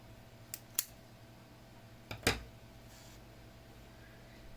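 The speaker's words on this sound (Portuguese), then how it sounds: "Vamos cortar aqui o fio." Scissors cutting yarn on a crocheted amigurumi doll, two quick light snips followed by a louder double snip, close in an otherwise quiet room.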